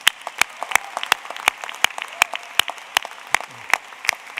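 At a university doctoral commencement ceremony, the audience claps for faculty mentors: a handful of sharp, distinct hand claps in an uneven rhythm over a thinner background of scattered applause, fairly close, with a faint murmur underneath.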